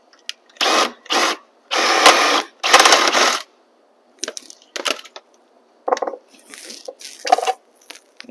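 Socket wrench working the main gearbox bolt on a Talaria Sting electric motorbike, with a few quick ratcheting bursts followed by softer metallic clicks and taps, close up.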